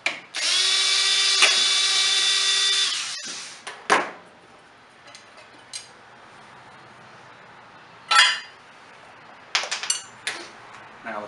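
A power driver whirs steadily for about three seconds as the heat dam is removed from a Stihl BR420 Magnum blower engine, followed by a few sharp metallic clanks and taps of tools and parts at close range.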